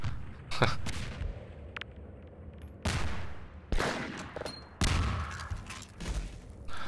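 Grenades explode in Half-Life 2 combat: several loud, sharp blasts with rumbling decay, irregularly spaced, mixed with gunfire-like bursts and no talking.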